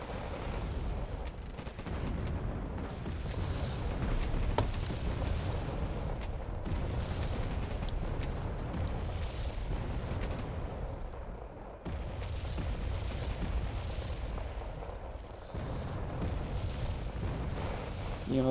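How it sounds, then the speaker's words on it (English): Artillery fire and explosions in the strategy game Wargame Red Dragon form a continuous rumbling barrage of distant booms and bursts, with someone talking over the battle noise throughout. "You know, artillery back and forth."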